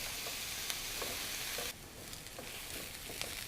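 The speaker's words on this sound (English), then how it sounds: "now the onions and garlic are going to saute on medium-high for about 2 minutes until the onions are golden" Onions and garlic sauté over medium-high heat in a pan for a baked ziti, giving a steady close sizzle and hiss with a few light stirring scrapes; the frying quietens a little partway through.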